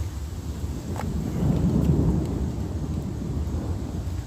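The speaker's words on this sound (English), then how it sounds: "You guys hear that thunder?" Low rolling thunder rumbles during a storm in Washington, D.C., swelling in the middle and fading again, with steady rain-like noise underneath and no one speaking.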